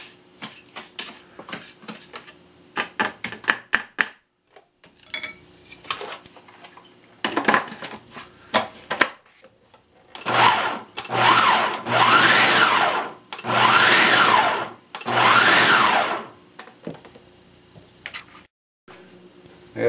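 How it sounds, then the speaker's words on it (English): Food processor whirring through a thick homemade cookie butter mix, first with clattering handling knocks and short pulses, then four long steady blending runs separated by brief pauses. "so now we're going to keep blending"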